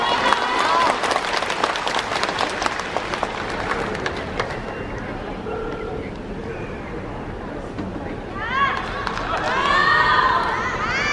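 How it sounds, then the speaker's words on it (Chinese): A crowd in a gymnastics arena at the 2018 Chinese national championships in Zhaoqing claps and cheers. Dense applause is loudest early and fades into a murmuring hall, and an announcer's amplified voice comes in near the end. "东道主先生一点加油掌声好吗？"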